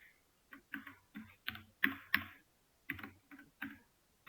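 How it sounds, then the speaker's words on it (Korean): Light keystrokes on a computer keyboard during a web development lesson tap out in short irregular bursts, close and clear in a quiet room with no talk. "그냥 타이핑 하시면 돼요."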